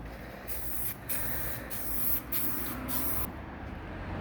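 Spray paint hisses onto a MK4 Golf spoiler in several close, steady bursts with brief pauses between them, with no speech.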